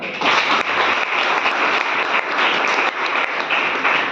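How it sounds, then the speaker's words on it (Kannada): An audience at a government PU college parents' meeting applauds loudly, dense continuous clapping close and full throughout, without talk. "ನಮ್ಮ ವೇದಿಕೆ ಎಲ್ಲ ಉಪನ್ಯಾಸ ಪರವಾಗಿ ಜೋರಾಗಿ ಚಪ್ಪಾಳೆನ"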